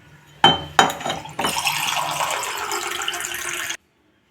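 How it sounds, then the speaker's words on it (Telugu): A couple of sharp knocks, then water pours steadily into a bowl of ragi and wheat flour for dough, a close, continuous splashing stream that stops abruptly. "ఇప్పుడు మనం ఇందులోకి వాటర్ వేసి పిండి కలుపుదాం."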